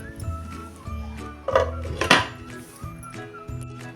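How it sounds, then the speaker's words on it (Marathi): A metal spoon scrapes and clinks against a pot while rice is stirred with a little oil, followed by the clatter of a lid being set on top, close and sharp, with no voices. "आता हा एकसारखं हलवून झाकून आता हा भात मी शिजवून घेते"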